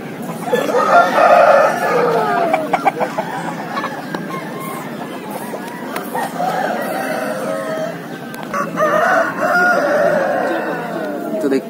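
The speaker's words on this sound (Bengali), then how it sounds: "তো দেখতে পাচ্ছি গাইজ একটা খুব ভালো কোয়ালিটির মুরগি এখানে দেখতে পেলাম।" Chickens of good breed at a crowded village poultry market cluck and crow loudly and close, with repeated calls over a murmur of people chatting nearby.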